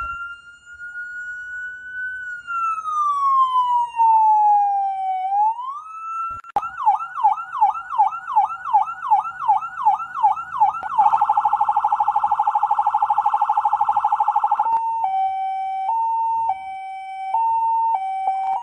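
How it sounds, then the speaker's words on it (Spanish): An ambulance siren runs through several patterns, a slow rising and falling wail, then a rapid whooping yelp, a fast continuous warble and a two-tone alternating call, loud and close with no talk. "¿Sabes cuál es el significado de los diferentes sonidos de una ambulancia?"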